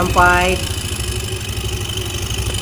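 A Yamaha Mio MXi scooter engine fires up with a brief rising whine, then settles into a steady, close idle with a fast, even pulse.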